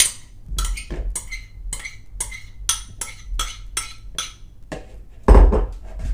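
Ham and sweet corn being mixed in a bowl, with a series of sharp utensil clinks and scrapes against the dish at a steady rhythm, close and fairly loud, ending in a heavier knock.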